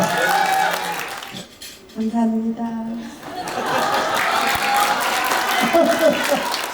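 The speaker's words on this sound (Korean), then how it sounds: "박수 한번 주십시오" Guests at a wedding reception clap and chuckle around a spoken thank-you, the applause dropping out briefly under the voice before swelling back into steady clapping.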